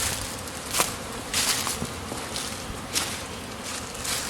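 Honeybees buzzing around nucleus hives in warm weather, a continuous airy hum with a few louder passes near the listener, plus brief rustles and footsteps, no speech.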